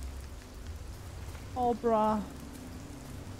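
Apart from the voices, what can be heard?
rain in the video game Fears To Fathom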